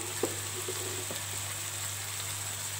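Coriander, chilli and turmeric powders sauté in a pan of hot oil for a chicken biryani, a steady close sizzle with a couple of faint scrapes near the start.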